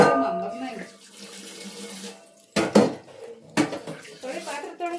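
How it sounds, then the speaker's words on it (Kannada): Dishes and pots clatter in a home kitchen sink under running tap water, with a couple of sharp clanks standing out amid the washing while a person talks over it. "ನೇರಪ್ಪ ಪಾತ್ರೆ ತೊಳಿ."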